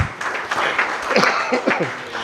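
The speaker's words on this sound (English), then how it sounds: "I want you to clap for it because not easy to get ATAL FDPs" An audience at a mechanical engineering faculty development programme's inaugural session applauds, a steady wash of clapping with a few louder bursts and some chuckling voices mixed in.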